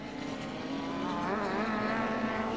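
Touring race car at Mallala in a one-hour race of the 1989 Australian Touring Car Championship, its engine a loud, continuous roar with shifting pitch as it crosses the finish line.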